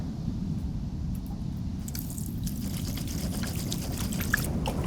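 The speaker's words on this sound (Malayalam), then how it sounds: "വെള്ളം ഒഴിച്ചേ" Water is poured steadily over a broad low rush, with splashing and trickling that thicken midway through and continue to the end.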